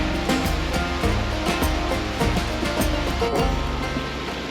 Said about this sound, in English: as you go back up, you get to see all of these beautiful cascades.